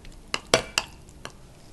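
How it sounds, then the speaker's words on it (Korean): A spoon's back presses and stirs steamed sweet pumpkin in a bowl for a snack, giving three or four short, close clinks and scrapes against quiet room tone. "등으로 꾹꾹 눌러주세요. 꾹꾹 눌러서 으깨주세요"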